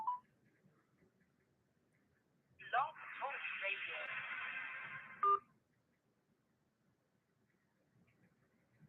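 Phone tones sounding over a quiet background: a short beep, then a burst of electronic warbling tones lasting a few seconds, and a sharp click at its end.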